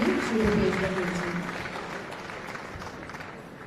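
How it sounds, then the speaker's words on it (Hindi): An audience at a chit fund investor justice event applauds the chief minister with a dense clapping burst that fades gradually, with crowd voices over it. "और इसके साथ ही हम उद्बोधन के लिए पूरे सम्मान के साथ और जोरदार तालियों के साथ आमंत्रित करते हैं माननीय मुख्यमंत्री महोदय को।"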